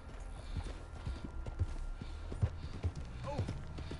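Horse hooves clip-clop steadily at a walking pace in the Red Dead Redemption 2 game world, with moderately close, regular hoof falls over a soft ambient bed and some faint talk.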